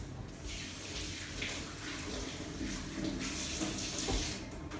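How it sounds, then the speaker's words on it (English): Hands are washed under a running kitchen tap, a steady hiss and splash of water with small shifts as the hands move through the stream, close and continuous. "now I'm going to quickly wash my hands"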